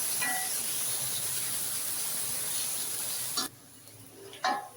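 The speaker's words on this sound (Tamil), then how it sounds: "வெங்காயம் வந்து நல்லா வதங்கட்டும்." Onions sauté in a pan for paneer bhurji gravy with a steady, even sizzling hiss that cuts off abruptly, leaving a few faint clinks and stirs.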